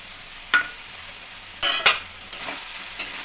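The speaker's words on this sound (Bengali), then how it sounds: "সবজিটা আমি একটু ভালো করে নাড়াচাড়া করে কষিয়ে নেব" Vegetables with dry chili powder stirred and fried in a pan, with several distinct scraping stir strokes spaced irregularly over a soft continuous sizzle, close and clear.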